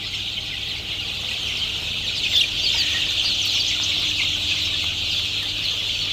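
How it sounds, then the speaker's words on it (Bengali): Sixteen-day-old chicks eat feed eagerly and keep up a continuous, busy chorus of high chirps and soft clucks, a close flock of overlapping calls that swells briefly midway. "ভাই মুরগি খাওয়ার রুচি দেখে মন শান্তি ভাই"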